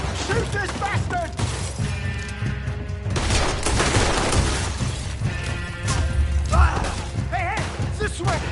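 Gunshots and shattering crashes ring out during a chaotic Red Dead Redemption 2 fight, with loud bursts scattered through dense background noise while voices shout over the action.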